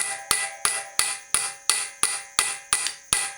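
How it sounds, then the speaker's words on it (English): Hammer strikes pounding a U-joint on the output shaft of a 1960 Ford F100, ten sharp metallic blows at a steady, slightly quickening rhythm, each ringing briefly, loud and close with no talking. "pounding on a U-joint"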